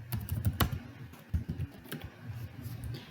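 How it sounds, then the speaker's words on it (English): Computer keyboard typing while a new user's first and last name are entered, a quick run of soft close clicks with brief pauses, no voices. "So now we're going to type in the first and last name"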